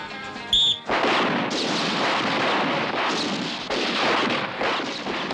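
Gunfire in a French action comedy film erupts after a brief whistle-like tone, then becomes a loud, continuous roar of firing that hardly lets up for several seconds.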